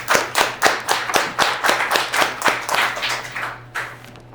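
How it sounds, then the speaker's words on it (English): A few people clap together in a steady, rhythmic round, the claps close and crisp, tapering off near the end. "a round of applause"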